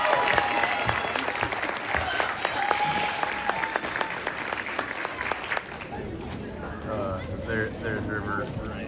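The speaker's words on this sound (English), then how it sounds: "Can we get one last round of applause for our awesome beginning band?" Audience applause for a school beginning band at a 6th and 8th grade spring concert, dense clapping filling the hall for several seconds before thinning out as a voice speaks over it.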